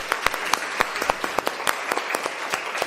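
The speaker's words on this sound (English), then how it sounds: "So if we can just give them one more round of applause." A conference audience at a climate solutions forum gives the chefs another round of applause, a loud, dense and sustained clapping with sharp individual claps standing out.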